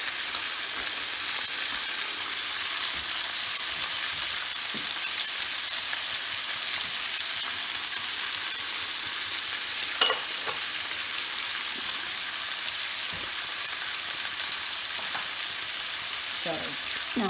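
Pork chops sear in a frying pan, giving a steady, close, even sizzle that runs the whole time with a few faint clicks and no talk.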